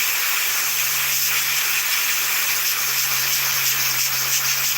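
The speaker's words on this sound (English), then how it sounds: "So I'm just airbrushing" An airbrush sprays paint onto a 1/48 scale Italeri Pave Hawk model kit, a continuous close, loud airy hiss holding steady throughout with a faint low hum underneath and no talking.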